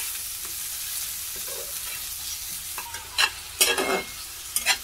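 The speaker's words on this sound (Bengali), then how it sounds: "সবগুলো মশলাকে সুন্দর করে কষিয়ে নেব।" Turmeric and chili powder spices fry in a hot pan with a steady sizzling hiss, while a utensil stirs them with several short scraping strokes near the end. No voices.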